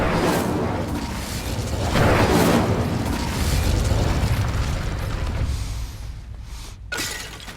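Hogwarts Legacy video game: an Incendio fire spell is cast, giving a burst of crackling, whooshing flame and shattering impacts that swell around the middle, then fade into quieter game ambience and a final sharp hit.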